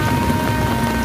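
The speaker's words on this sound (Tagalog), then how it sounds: "Rain, go away, come again another day." Steady, fairly loud rain patters and hisses on the street during a walk toward a market in a heavy rainstorm, with no voices.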